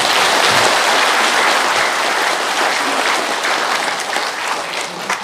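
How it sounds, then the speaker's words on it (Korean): A Korean audience applauds to welcome the head of a broadcasting outlet at a veterans' association event: dense, loud, continuous clapping that fills the room and thins slightly toward the end. "박수로 맞이해주십시오."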